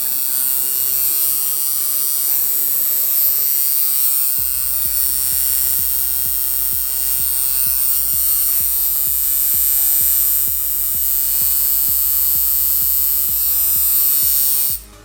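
A tattoo coil machine runs loud and steady with a dense electric buzz, briefly pausing early on, then resuming with a fast, even rhythm while its contact screw is tightened.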